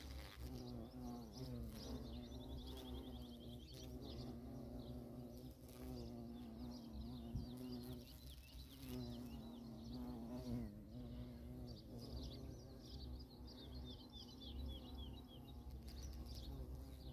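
Steel blue bees fly among poppies outdoors, a steady close buzzing drone that rises and falls as they move, with faint bird chirps in the background.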